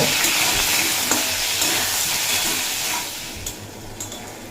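Ridge gourd and pointed gourd fry with salt and turmeric in a pan, a loud broad sizzle that eases after a few seconds, with occasional light stirring clinks and no talking.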